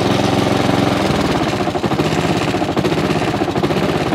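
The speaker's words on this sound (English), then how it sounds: "now the lawnmower's been running for about 5 minutes" A Honda HRX537 petrol lawnmower engine idles loudly close by, chugging with a steady, slightly uneven rhythmic knock.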